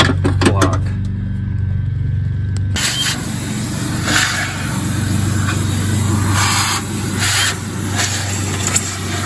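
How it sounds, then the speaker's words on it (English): A vacuum cleaner sucks debris out of the engine bay of a 2008 Toyota Tacoma with 320,000 miles during an intake manifold gasket job, a loud steady hiss and roar that shifts in tone partway through as the nozzle moves. "I'm going to grab my vacuum and suck that out"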